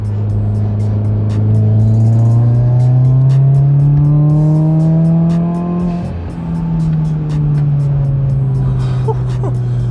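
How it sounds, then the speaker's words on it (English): A 2015-or-later Subaru WRX with a pro tune pulls hard in third gear, engine note climbing steadily and loudly for several seconds before a brief dip at the shift, then continuing to drone, with faint clicks over the top. "Let me drop down to third gear here, do a nice little third gear pull."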